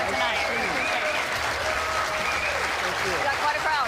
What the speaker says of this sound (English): Let's watch the remainder of this ovation.